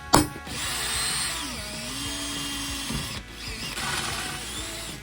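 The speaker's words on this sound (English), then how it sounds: "drill it out to M8." A power drill whines steadily as it bores an M8 hole in centre-punched metal for a 125cc drift trike, preceded by a sharp click, with the pitch dipping briefly mid-way before resuming.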